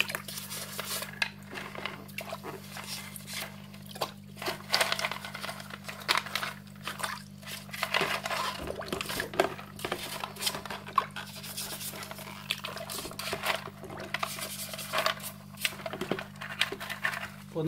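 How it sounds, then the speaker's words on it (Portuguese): Brush scrubbing Fluval 406 aquarium filter parts, with steady clattering and rubbing of plastic pieces over a constant low hum, close and moderately quiet, no talking. "Passa assim uma ou duas vezes a escova, parece novo."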